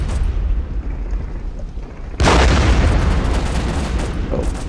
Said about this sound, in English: the artillery won't really miss